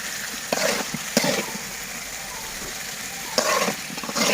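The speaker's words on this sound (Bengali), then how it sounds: "এবার আলুগুলা সহ কষিয়ে দেব। একই সাথে আলু আর কিছু পরিমাণের সজনা ডাঁটা" Potatoes and drumsticks are sautéed in oil for a pangas fish curry in a village home kitchen; a steady sizzle swells in a few loud bursts as the pieces are stirred.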